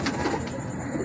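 A golden breeder pigeon coos close by, a short soft throaty burble lasting about a second with no speech over it.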